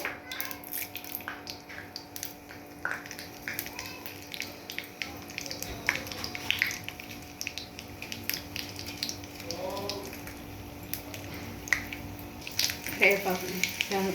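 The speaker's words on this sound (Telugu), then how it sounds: "ఆయిల్ వేసుకున్నాక పోపు గింజలు వేసుకోవాలి" Tempering seeds (popu) sizzling in hot oil in a home kitchen while making potlakaya perugu pachadi, a faint steady crackle with scattered pops throughout, under intermittent talk.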